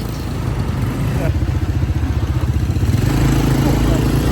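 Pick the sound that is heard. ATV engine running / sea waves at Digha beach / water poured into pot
ATV engine running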